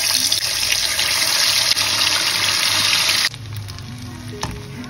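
Seblak frying in a pan, a loud continuous hiss and crackle of hot oil close by that drops to a quieter sizzle partway through, with no voices.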